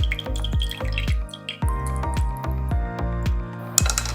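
Whey from yogurt pressed in a muslin cloth over a strainer, dripping in close, distinct drops at an irregular rhythm, roughly a dozen plinks with a soft wet squelch near the end.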